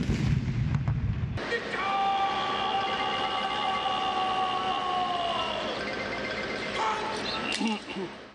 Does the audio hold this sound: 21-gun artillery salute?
yes